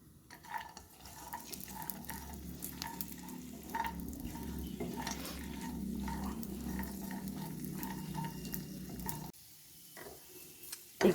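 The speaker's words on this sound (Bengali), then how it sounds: "এবার এতে আমি কাজু, কাঠবাদাম, পেস্তা বাদাম আর কিশমিশ দিয়ে দিলাম, দিয়ে একটু নেড়ে নেব।" Cashews, almonds, pistachios and raisins roasting in ghee, a low sizzle under repeated light scraping and clinking of a stirring spoon, with a short quiet gap near the end.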